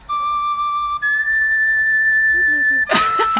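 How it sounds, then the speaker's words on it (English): A tin whistle plays a short, loud descending drop of two sustained pure notes, cut off by a burst of noise at the end. "I hope you enjoyed that Alex Collins drop. Brought to you by Tin Whistles."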